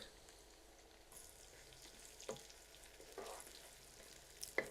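Native onions frying in foaming mustard oil, a faint, soft sizzle with a few scattered stirring clinks and scrapes, quiet and close.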